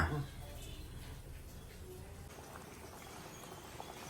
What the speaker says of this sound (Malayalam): കറിയൊക്കെ നല്ലപോലെ തിളച്ചു സെറ്റായി